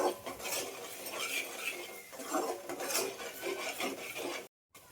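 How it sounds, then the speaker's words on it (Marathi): Masala spices being stirred and sautéed in a home kitchen pan, with steady scraping of a utensil against metal and a faint sizzle running continuously, cutting out briefly near the end. "आता मी याच्यात मसाला टाकलेला आहे मसाला छान परतू द्यायचा आपल्याला"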